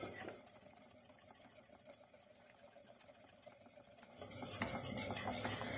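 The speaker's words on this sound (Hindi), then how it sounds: "और इसको बहुत अच्छी तरह से मिक्स करेंगे।" Egg yolks being stirred into melted butter in a pan for a lime tart, a quiet, continuous scraping and stirring sound with faint sizzling, growing a little louder near the end.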